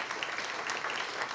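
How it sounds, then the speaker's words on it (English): A brief burst of dense audience applause at a quarterly business breakfast, many hands clapping together in a steady wash. "So let's give them a round of applause."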